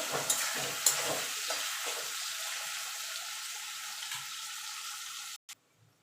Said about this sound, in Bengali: দিয়ে আলুটাকে আমি লাল লাল করে ভেজে তুলে নেব।